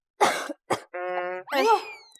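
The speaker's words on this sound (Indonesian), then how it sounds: "Batuk-batuk. Batuk, Pak." Two short coughs break the quiet, followed by a sustained buzzy, nasal tone and then a rising-and-falling whistly, squeaky sound, all close and fairly loud.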